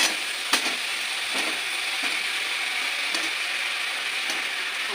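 Potatoes frying in oil in a pan sizzle with a steady bright hiss, punctuated by a few light scrapes and clicks of stirring, close and continuous.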